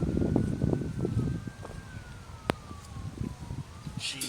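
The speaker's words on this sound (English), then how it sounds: "Sirens continue to wail as emergency responders try to catch up with calls for service" After a severe wind storm in Miles City, Montana, a distant emergency vehicle siren drifts slowly in pitch over low, rumbling wind noise, with a sharp click partway through.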